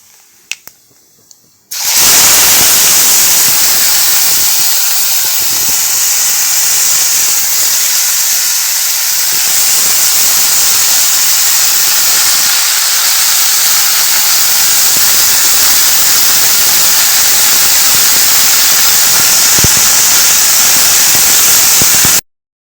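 Greens (bhaji) dropped into hot oil for a tempering with spices, giving a sudden loud sizzle that becomes a dense, steady hiss and crackle and holds for about twenty seconds after a brief quiet start.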